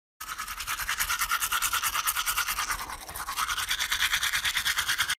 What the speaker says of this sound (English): Take this toothbrush and toothpaste.